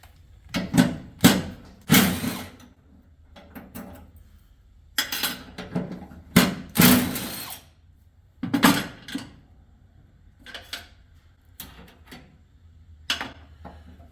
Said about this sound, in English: Now we're just going to remove this 10mm nut and that 10mm nut.